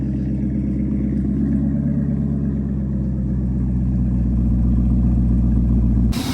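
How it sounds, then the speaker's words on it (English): A car engine cold-starting, a steady loud low rumble with clattery idle texture throughout, heard up close alone with no talking, cutting off abruptly at the end. "now for a little cold start"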